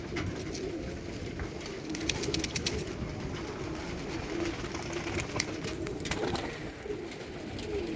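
Pigeons cooing outdoors as a young white pigeon is let go into the open sky, a steady low murmur of coos with faint flutters and distant background noise.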